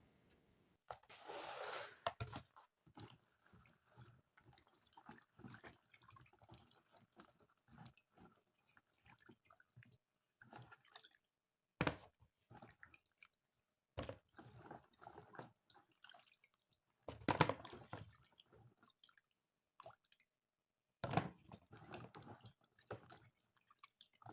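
Broken coconut pieces being washed in water give soft, wet splashes, drips and squishy knocks in irregular bursts, close by and fairly quiet, with no talk.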